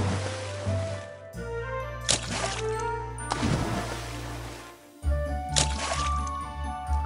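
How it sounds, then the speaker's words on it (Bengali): A cartoon girl dives into a pond, and splashy water bursts and sloshes rise over a low musical drone, arriving in several loud surges. "এই বলে শ্যামলী পুকুরের জলে ডুব দেয়"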